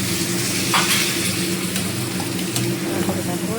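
Soya chunks with green chili and salt being stirred and sautéed in a pan for a soya chaap dish, a steady close sizzle broken by spatula scrapes, with a constant low hum running beneath.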